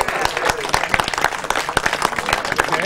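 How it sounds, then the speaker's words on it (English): Audience applause at a tribute to a championship team, dense close clapping with cheers and voices mixed in throughout. "Give him another round of applause."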